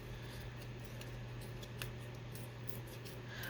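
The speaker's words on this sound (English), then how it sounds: "I'm going to cut this down." Scissors snip paper for a trifold journaling booklet in a series of quiet, irregular close cuts over a steady low background hum.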